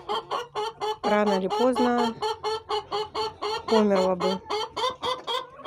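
Large roosters and chickens clucking and calling close by in a rhythmic, repeated pattern, with someone talking over the birds.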